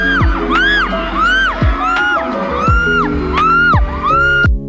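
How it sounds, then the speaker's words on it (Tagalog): A crowd of people cheers and shouts loudly in repeated rising whoops and yells, wave after wave, close and continuous with no break. "Dito, hihiyaw na kami niyan"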